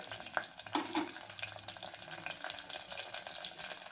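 Tadka of curry leaves, red chillies and white sesame seeds frying in hot oil, a soft, continuous sizzle scattered with quick pops and crackles, heard close and fairly quiet with no voices.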